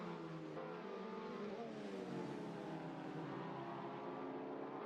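Touring cars racing in a WTCR round in Hungary, engines droning and rising in pitch as they run nose to tail, sustained and fairly distant throughout, with no voices.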